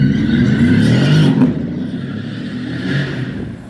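Vehicles rush past on a busy road near a bus stop, a loud close whoosh of a car speeding by that fades to a lower traffic rumble.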